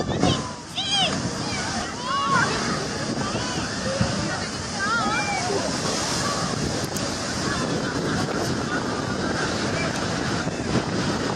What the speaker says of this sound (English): Storm flooding in Spain transforms the streets into a fast-moving river, as waves surge forward and flood everything nearby.